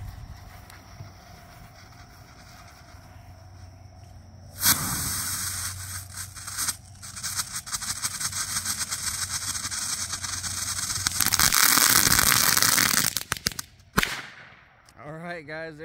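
An Electronic Bomb consumer firework by Brothers goes off with a sharp bang, a sustained crackling and hissing burst, and a final loud report, all loud and close with no talking.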